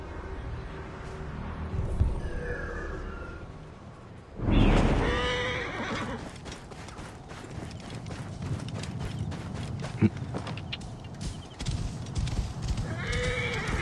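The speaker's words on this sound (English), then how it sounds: "Lonely horses." Horses in the Assassin's Creed Origins video game whinny loudly, with one strong neigh near the middle. Hooves clip-clop steadily throughout, close by, with no voices.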